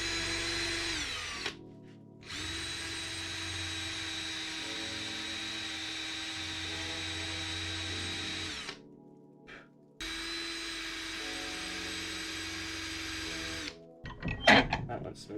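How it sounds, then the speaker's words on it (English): Power drill boring holes into a bluefin tuna fishing lure, a steady close whir running in long bursts with short pauses between, ending with brief handling clatter. "Start drilling."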